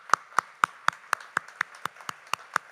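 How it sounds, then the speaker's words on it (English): Clapping at a Startup Day 2022 gathering comes as about a dozen sharp, evenly spaced claps in a quick steady rhythm, close and distinct against a quiet background. "Let's have a round of applause for that"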